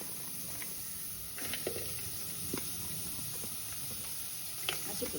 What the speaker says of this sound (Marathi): आता आपली टोपशी गरम झालेली आहे तर मी आता कांदा शिजवून घेते